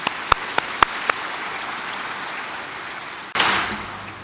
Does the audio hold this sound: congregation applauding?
yes